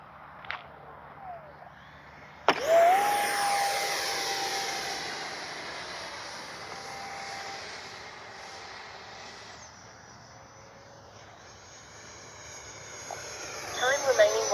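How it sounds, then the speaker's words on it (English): An Arrows Avanti S 50mm RC park jet whooshes past with a high whine that rises sharply, sustains, then fades and swells again as it circles overhead. "Great flying little jet."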